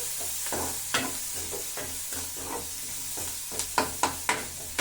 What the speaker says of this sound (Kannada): ಸರಿ ಬೇಯ್ತಾ ಇದೆ ಈರುಳ್ಳಿ